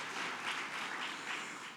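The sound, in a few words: audience applause for elected officials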